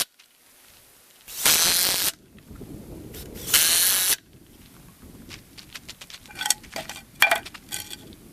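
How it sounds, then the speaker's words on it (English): A power drill drives screws to join wooden boards for a simple steel and paper target frame, two loud whirring bursts followed by lighter clattering and handling of the boards and hardware. "So I'm gonna screw these together"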